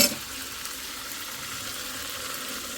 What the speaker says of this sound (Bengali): তো পানি দিয়ে দিই